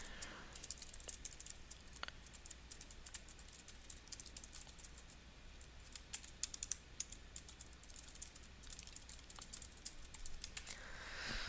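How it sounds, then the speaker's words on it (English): Steady typing on a computer keyboard, a fast irregular patter of light key clicks running throughout, close and fairly quiet with no talk over it. "bear with me for just a moment here while I type some text"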